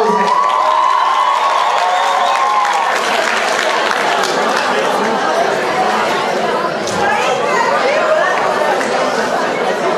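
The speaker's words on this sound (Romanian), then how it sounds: "Aplauze!" At a 2019 Romanian freshman ball, a lively crowd claps and cheers with chatter and shouts mixed in, a continuous loud wash of audience noise throughout.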